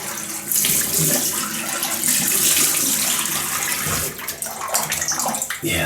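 Tap water runs steadily close by as a shaving brush is rinsed beneath it, a bright rushing splash that breaks into uneven spatters toward the end.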